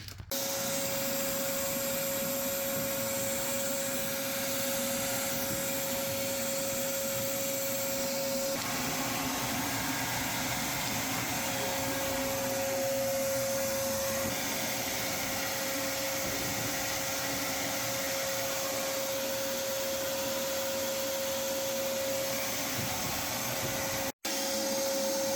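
Vacuum cleaner sucking up debris on a Pelicano 18 boat during sanding work, a steady loud whine with a constant tone running unbroken for about twenty-four seconds, ending in a brief click.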